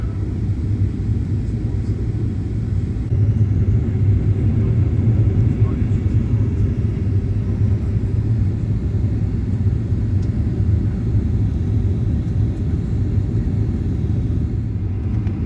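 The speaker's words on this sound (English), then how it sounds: "We're now on the runway and we are taxiing to the end of the runway where we will make a big U-turn and take off at runway 15." Inside the cabin of a Qantas Boeing 737 taxiing along the runway, a steady, loud low rumble of engines and airframe fills the cabin evenly, with no other distinct sounds.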